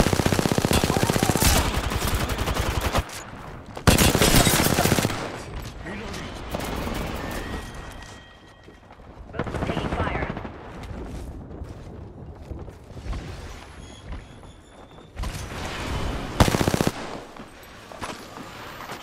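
Automatic weapon fire in Apex Legends comes in loud, rapid bursts separated by quieter gaps, with sharper single shots and distant exchanges; a voice speaks briefly during the fighting.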